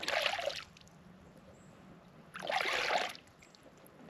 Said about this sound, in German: das Geräusch von den Paddeln im Wasser